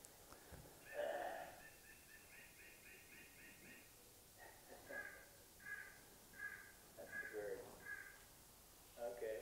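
A bird calls repeatedly in the background, faint harsh cries in short bursts with gaps between them.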